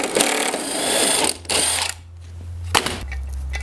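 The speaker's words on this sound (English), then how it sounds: "You'll need a 5/8 socket here on your impact or ratchet." Ratchet or impact wrench with a 5/8 socket working a blade bolt under a Toro TimeMaster lawnmower, heard as short bursts of mechanical clicking and whirring, close up, broken by brief pauses with a low hum underneath.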